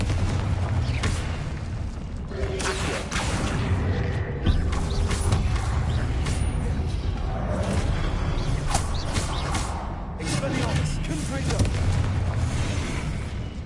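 Spells cast in Hogwarts Legacy, a video game, including a Confringo blast: dense booming and crackling effects with creaks and bursts, loud and continuous, layered over game music.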